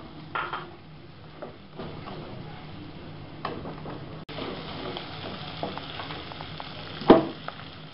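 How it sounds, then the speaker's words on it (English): Vegetables stir-fry in butter in a wok, giving a low steady sizzle with occasional stirring clatters and one sharp metallic clink near the end. "In it we'll add our veggies and stir fry."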